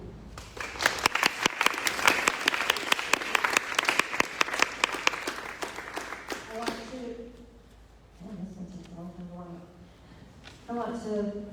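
Sustained audience applause for a mayoral candidate at a community candidates night, loud dense clapping for about seven seconds before fading, followed by someone speaking.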